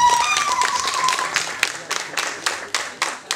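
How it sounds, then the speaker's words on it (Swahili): Audience clapping at a season-closing event at a base camp, starting as a dense patter under a fading voice and thinning into a few separate sharp claps toward the end. "Pigeni makofi Biti Mtwara."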